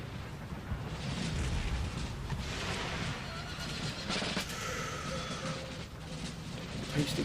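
Cannon and artillery fire in the battle game Empire: Total War forms a continuous, heavy rumbling barrage with scattered booms and distant battlefield noise, and no single shot stands apart.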